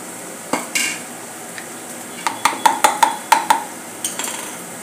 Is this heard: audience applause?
no